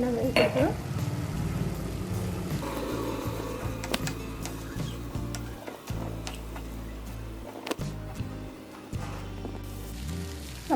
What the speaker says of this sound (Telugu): మొత్తం వేసి కలిపేసుకున్నాం కదా.